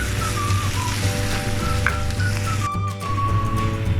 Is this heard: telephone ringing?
no